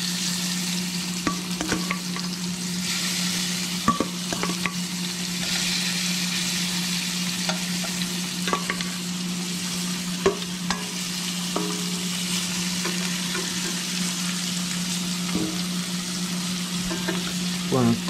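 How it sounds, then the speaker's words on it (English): Shrimp frying in a hot pan: a steady, close sizzle runs the whole time, broken by occasional soft clicks and pops, with a low hum underneath. "We're going to go ahead and dump our shrimp."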